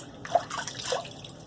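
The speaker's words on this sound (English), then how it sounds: "Let me rinse my face again." Tap water running at a bathroom sink while a face is rinsed before shaving, soft splashing and dripping with a couple of brief louder splashes, close and fairly quiet, no voices.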